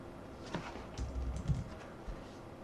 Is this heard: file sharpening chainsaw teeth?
no